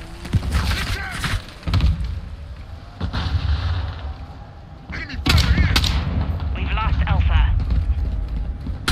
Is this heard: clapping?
no